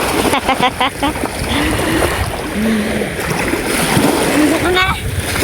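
People splash and wade while bathing in the sea, with water sloshing continuously close by and voices talking and calling over it.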